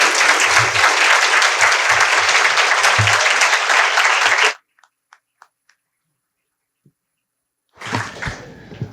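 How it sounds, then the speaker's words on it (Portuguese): A crowd at a lecture on freedom of expression breaks into loud, dense applause that stops abruptly after about four seconds, leaving near silence with a few faint knocks before a short burst of noise returns. "Podem me aplaudir também."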